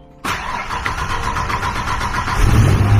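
A 30-year-old Ford Explorer, long unserviced and just treated with Seafoam, cranks briefly and catches, then settles into a steady close idle that swells slightly near the end.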